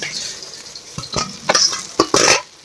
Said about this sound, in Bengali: কি মাছগুলো ভেজে নেব।